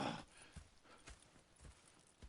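Horse hooves clip-clopping in the video game Red Dead Redemption 2: quiet, evenly spaced hoofbeats at an unhurried walking pace, about five distinct strikes, with no speech over them.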